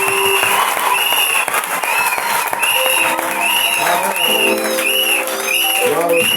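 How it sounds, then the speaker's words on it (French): A church congregation bursts into loud, sustained applause and cheering, a dense wall of clapping and voices that holds steady and close throughout, with a few raised shouts rising above it. "Est-ce qu'on peut acclamer très fort?"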